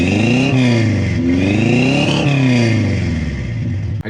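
A 1986 Dodge Power Ram 50 pickup's 2.6-liter four-cylinder, fitted with headers, a 2-inch exhaust and a Weber carburetor, revs loudly up and down in repeated swells for about four seconds before cutting off abruptly, with no voices.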